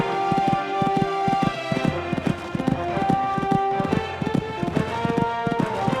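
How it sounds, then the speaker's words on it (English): Hoofbeats of a horse cantering along a cross-country eventing course, a steady repeating three-beat pattern of close, crisp thuds that carries on throughout without voices. "Cantering along this part now."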